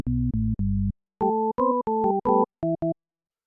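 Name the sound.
synthesizer sine wave tone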